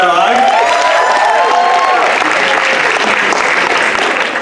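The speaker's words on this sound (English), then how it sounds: "Can we give it another round of applause for Log?" An audience at an Indian student association Jalsa show bursts into loud, sustained applause and cheering, with whoops and voices rising at the start before steady dense clapping fills the rest.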